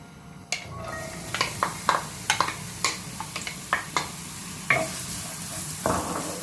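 Chopped onions drop into hot oil for shrimp kottu rotti and fry with a steady hiss, while a spoon scrapes and taps the pan in an irregular rhythm of sharp clicks, near and alone.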